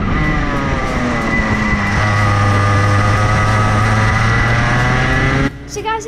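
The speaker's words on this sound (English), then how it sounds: "This is me doing the proper racing line, so listen to how high the revs are." A go-kart engine holds high revs on the racing line, a loud, sustained whine with steady harmonics that rises slightly, then cuts off abruptly near the end.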